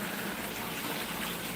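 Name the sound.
water filling a new pond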